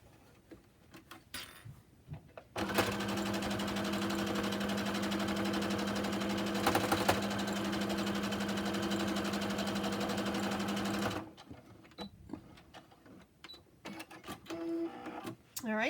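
A sewing machine runs steadily for about nine seconds, stitching across the bottom seam of a fabric face mask with a close, even whirring hum, while quieter handling noises come before and after.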